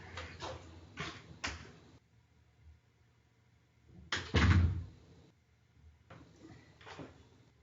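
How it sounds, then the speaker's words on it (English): An office or classroom door is closed, with a loud thump and rattle in the middle after some shuffling and handling sounds, followed by quieter knocks, no speech. "Let me close the door here."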